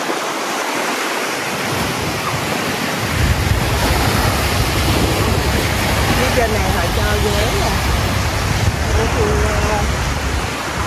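Sea waves wash onto a private resort beach on Phu Quoc island at sunrise, a steady broadband surf roar with wind rumble that swells after the first few seconds and stays loud and continuous.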